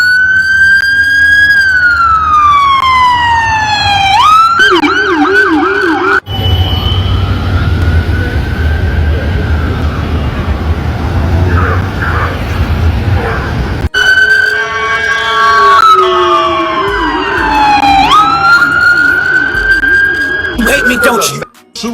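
Police cars and other emergency vehicles race past in a swarm outside a burger restaurant's grand opening in Long Beach, their loud wailing sirens sweeping up and down. A rumbling stretch of traffic noise with no siren fills the middle before the sirens return.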